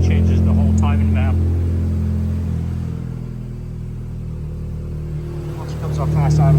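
Porsche Macan with a muffler delete and quad tips idling high on fast idle, a loud steady low drone that dips slightly midway and swells again, with voices talking over it.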